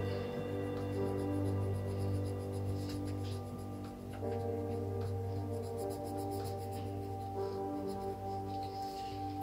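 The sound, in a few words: colouring a drawing on paper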